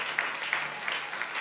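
Church congregation applauding at a seminar service, a steady wash of clapping from many hands filling the room, moderately loud with no voices standing out.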